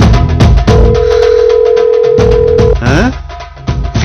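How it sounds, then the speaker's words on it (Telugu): A phone call over speakerphone in a Telugu film scene gives a steady electronic ringing tone for about two seconds, set against background music and ambient sound. "విను, రింగ్ అవుతుంది."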